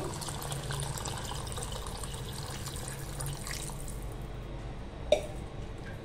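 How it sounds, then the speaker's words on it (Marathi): Water pours into soaked rice for matar pulao in a continuous close splashing gurgle that thins out toward the end, followed by one sharp click. "आता तांदळामध्ये पाणी टाकून घेऊया।"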